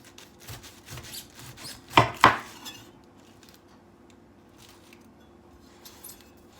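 A knife cuts through a whole pineapple close to the top, making soft rustling cuts and then two sharp, loud crunches near the middle before things go quiet.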